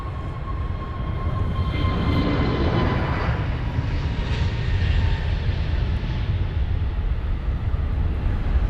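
An Aegean Airlines Airbus A321neo on runway 27 at London Heathrow gives a loud, steady jet engine roar that swells and then holds as a broad, continuous rushing noise from a nearby vantage point.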